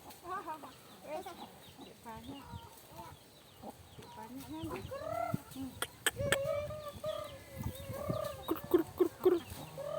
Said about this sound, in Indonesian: ayo kasih makan ayam